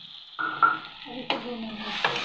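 Spices stirred and fried in hot oil in a pan while making an egg fry curry, with a steady sizzle and scraping stir strokes building after a brief quiet start.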